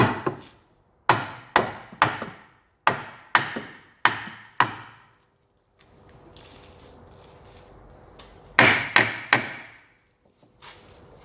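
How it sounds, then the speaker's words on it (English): A hammer taps a rusted-in rear spring pan on an Alfa Romeo GTV Spider 916, a run of about nine sharp metallic knocks in quick succession, a pause with faint scraping, then three more rapid hits close by. "with a little tap of a hammer it should start to come down"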